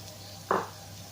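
Carrot and capsicum drop into a hot frying pan for vegetable fried rice, giving a single short, soft sizzling hiss against quiet kitchen background.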